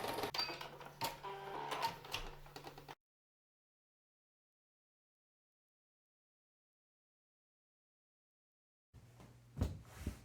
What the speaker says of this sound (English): Here is the final sew of the top of our mat.